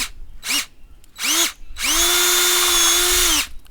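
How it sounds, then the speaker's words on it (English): A power drill bores at an angle into a sugar maple trunk for sap tapping: two short bursts, then one sustained whine lasting about a second and a half, loud and close. "I'm gonna drill in on an angle"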